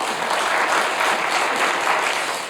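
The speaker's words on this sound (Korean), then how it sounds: "나오실 때 큰 박수로 모시겠습니다." A church congregation applauding a revival guest pastor, a dense, even wash of clapping that holds steady and starts to fade at the end.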